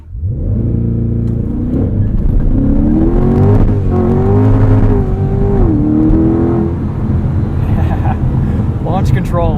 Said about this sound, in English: Launch control, even in the wet, the traction control system figures it out.